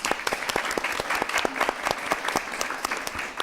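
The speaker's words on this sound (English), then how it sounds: "That deserves a round of applause" Round of applause from a live studio audience at a Catholic talk show taping, a moderately quiet stretch of steady clapping with distinct sharp individual claps standing out.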